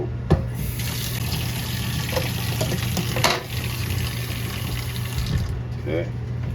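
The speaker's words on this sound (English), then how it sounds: "I'll just give it a little bit of a rinse." Running water rinses a part from a bean to cup coffee machine under a tap, a steady splashing stream with a low hum, continuing throughout with brief clatters.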